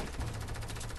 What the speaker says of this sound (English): I'm gonna chuck a grenade